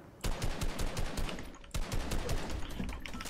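Rapid automatic gunfire from an enemy on a hillside in a shooter game, delivered as dense rattling bursts that cut out briefly and then resume, fairly close and loud with no voices over it.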